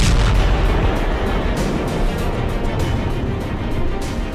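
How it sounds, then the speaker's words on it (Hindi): Heavy explosions and rocket fire during an air strike on Kabul, a dense, loud, continuous rumble of booms and blasts with no pauses. "कई रॉकेट दागे गए और भारी बमबारी हुई"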